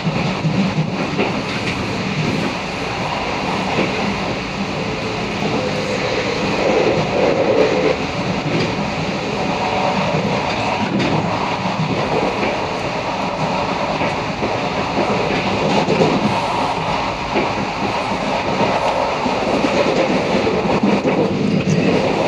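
An RER D commuter train runs between Stade de France–Saint-Denis and Goussainville, its steady loud rumble and rail noise filling the whole stretch with no talking.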